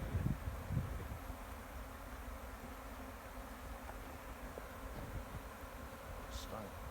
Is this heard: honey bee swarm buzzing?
yes